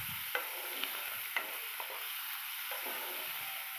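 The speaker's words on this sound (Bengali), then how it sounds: "এবারে মাছটা দিয়ে আমি সুন্দরভাবে ভাজবো।" Small shrimp frying in hot oil with turmeric in a pan, giving a steady low sizzle with a few soft clicks and taps of stirring scattered throughout, close and moderately quiet, with no voices.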